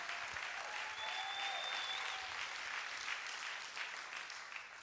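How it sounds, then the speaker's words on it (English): A church congregation claps their hands together, a sustained wash of applause heard from some distance at moderate level, with faint tones faintly riding over it. "Clap your hands and shout."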